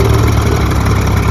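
A tractor engine labours loudly and steadily at close range while pulling an old Mahindra Thar 700 off-road, a dense continuous rumble with low throbbing and no voices.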